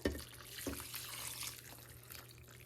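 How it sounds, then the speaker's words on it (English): Chicken broth splashes and trickles steadily into a pot, a soft continuous pouring with a couple of brief clinks, close by and moderately quiet. "I'm going to pour my chicken broth in"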